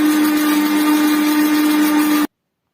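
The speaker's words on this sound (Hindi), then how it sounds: "आप देख रहे हैं कि मशीन मुसलसल चल रही है, ग्राइंडर जग मुसलसल घूम रहा है।" A mixer grinder jar runs without pause while mayonnaise is being made, producing a loud, steady, high whirring motor hum that cuts off abruptly into silence.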